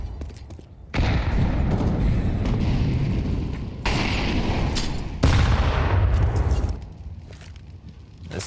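Heavy booming bursts from HE grenades in a Counter-Strike match, several loud explosive blasts with a sharp one near the middle and another heavier one soon after, dense gunfire-like rumble filling the stretch between them.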